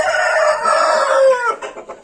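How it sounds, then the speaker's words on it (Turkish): A rooster crows in one long, loud, close call that trails off into a few short clucks, with no other sounds around it. "horoz bu da."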